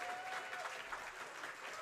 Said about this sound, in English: Give a round of applause to her.